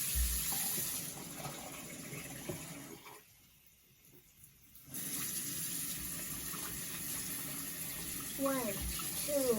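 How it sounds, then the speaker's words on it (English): A tap runs for handwashing, a steady near gush of water that drops away briefly in the middle before resuming, with a voice faintly heard over the flow near the end. "So, turn on the water."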